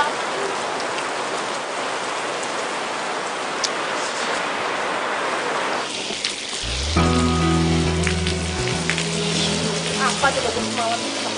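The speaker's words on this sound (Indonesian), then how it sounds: "Kenapa pakai hujan segala sih?" Steady rain falls on surfaces as a dense, even hiss; partway through, a low musical drone and melody rise beneath the downpour.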